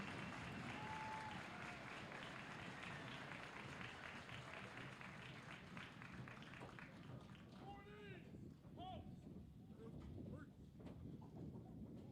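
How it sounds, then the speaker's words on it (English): Audience applause at a US Army retirement review and basic training graduation ceremony, a broad, distant wash of clapping from a large outdoor crowd, with a few shouts and whoops rising near the end. "Please join me in a round of applause for our retirees and their families."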